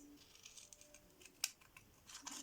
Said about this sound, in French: on va découper des petites feuilles sur ce côté-là.